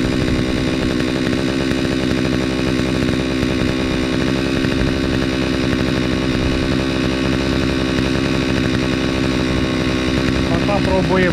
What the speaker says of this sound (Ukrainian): Заводиться мотокоса зовсім в другому режимі, тобто все навпаки.